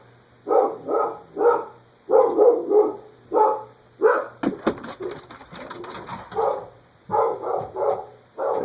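Short repeated bursts of barking from a dog some distance away upstairs, muffled through the floor, with pauses between the bursts.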